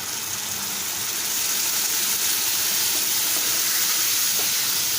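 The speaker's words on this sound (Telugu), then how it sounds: "ఇప్పుడు చూడండి టమోటా ప్యూరీ చేసుకున్నాం కదండి, ఇప్పుడు ఇందులోకి వేసేస్తున్నాం." Tomato puree for a tomato methi curry hits a hot pan, giving a steady, bright sizzle and hiss that holds evenly throughout with no pauses.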